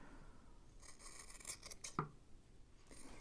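Scissors snip through yarn strands in a quick cluster of close, crisp cuts, one sharp snip standing out among lighter trims, with no talking and a quiet room behind.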